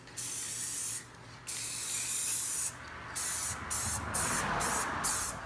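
Bursts of aerosol spray paint hissing onto old wheels in a heavy coat, several long passes followed by a run of shorter sprays with brief pauses, close and steady.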